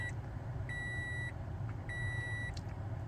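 Electronic beeps from a car dashcam screen powering on with its cameras connected: two sustained tones of about half a second each, spaced apart, clear over a low engine-like hum.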